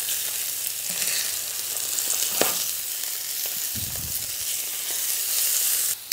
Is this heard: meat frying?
yes